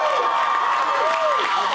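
A graduation audience at the Foothills Christian class of 2017 ceremony cheers and applauds during a valedictorian's speech, a loud, steady crowd roar with high whoops and whistles running for the full stretch.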